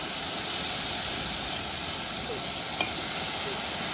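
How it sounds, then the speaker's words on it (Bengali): Capsicum and beans are being stir-fried with soy sauce for fried rice at an outdoor village night picnic, giving a steady close sizzle and hiss with faint stirring throughout. "ক্যাপসিকাম, বিনস সব ভাজা হয়ে গেছে, এবার দিয়ে দিব সোয়া সসটা"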